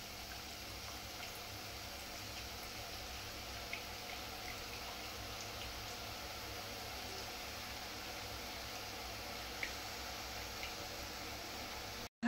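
Boondi frying in hot oil: a steady, faint hiss of sizzling that runs evenly throughout, with a couple of tiny pops and no talking.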